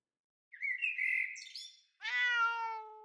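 A chirpy bird call is followed by a clear, tonal meow, both crisp and close, with silence before and no voices.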